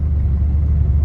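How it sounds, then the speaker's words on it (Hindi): Car engine heard from inside while driving home, a loud steady low rumble with even road noise throughout and no voices. "फाइनली गाड़ी का स्टीयरिंग मेरे हाथ में आ गया है, तो गाइस अब हम जा रहे हैं घर।"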